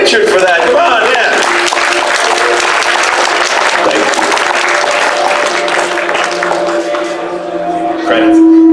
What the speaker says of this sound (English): A little round of applause for Richard for that.